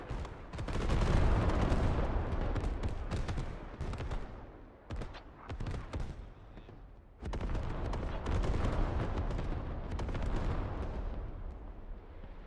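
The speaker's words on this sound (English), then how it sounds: "All these fortifications that the Ukrainians worked to build up are starting to get destroyed now by this artillery strike." Heavy artillery barrage pounding fortified positions in the Squad military shooter, with a dense, continuous roar of blasts broken by a short lull before rumbling shell impacts resume, loud and close.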